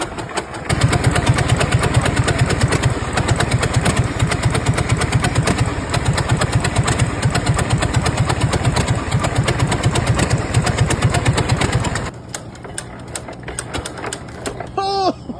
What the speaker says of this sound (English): Turns out it's a 1-cylinder tractor.